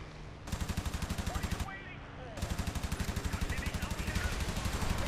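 Rapid machine-gun bursts of friendly fire in the IL-2 Sturmovik: Birds of Prey flight game, loud and close, a long burst, a short pause, then sustained rattling fire with faint speech underneath.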